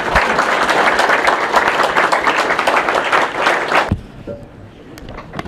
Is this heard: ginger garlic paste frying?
no